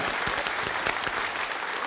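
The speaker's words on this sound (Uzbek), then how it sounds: "Ushbu shartimizning g'olibi Muhammad Umar. Qarsaklar bo'lsin." Audience applause for a winner on a children's game show, a dense, steady burst of clapping from a crowd, close and sustained across the whole moment.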